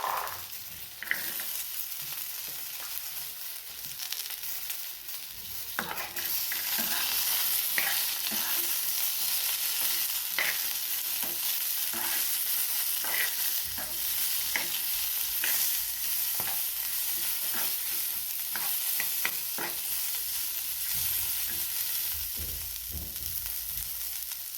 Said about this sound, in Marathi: यामध्ये हे असे हिरवे वाटाणे, हे पण थोडेसे भाजून घ्या